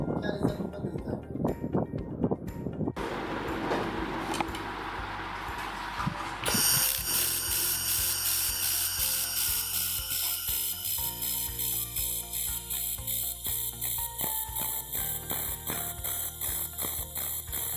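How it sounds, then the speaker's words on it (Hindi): A Vigor fiber laser machine welds in pulse mode, giving a rapid, steady stream of regular ticking pulses that begins partway through after some handling noise and carries on evenly to the end. "तो हम अभी अपना पल्स मोड स्टार्ट करेंगे इसमें"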